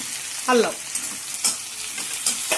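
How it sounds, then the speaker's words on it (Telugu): Curry leaves, garlic, green chillies and ginger fry in a pan, giving a steady crackling sizzle broken by a few louder stirring scrapes and spatters, with no talk. "కరివేపాకు వేసాము, వెల్లుల్లి వేసాము, పచ్చిమిరపకాయలు వేసాము, అల్లం"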